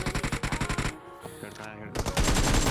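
Gunfire during a squad fight in the mobile battle royale game BGMI, loud rapid bursts of automatic fire at the start, a short lull, then dense continuous shooting near the end.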